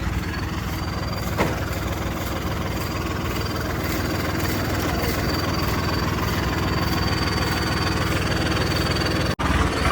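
A Swaraj tractor engine runs steadily at a constant idle-like throttle, a loud, close, unbroken mechanical drone with a faint thump early on and a brief dropout near the end.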